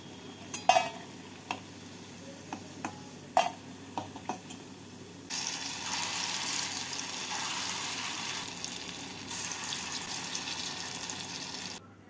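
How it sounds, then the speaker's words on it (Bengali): Lentil fritters (bora) fry in hot oil. A few utensil clinks and taps come first, then a steady, close sizzle fills the rest of the time. "বাকি বড়াগুলোকে ভেজে নেব।"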